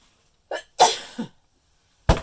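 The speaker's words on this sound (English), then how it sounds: "Oh, I have to sneeze." A short intake of breath followed by a sharp, loud sneeze, then a smaller exhale and another burst after a pause.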